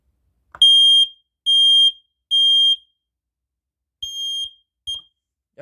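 Smoke alarm in a test of a combined smoke alarm and exit sign system, letting out loud, piercing electronic tones: three long blasts, a pause, then two shorter ones, close and alone.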